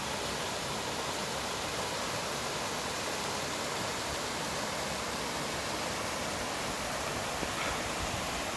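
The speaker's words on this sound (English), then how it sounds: "It's been raining through the night into the morning" Rain falls steadily through the night and morning on a backpacking trail by a creek near Castaic Lake, making a constant soft hiss with no voices present.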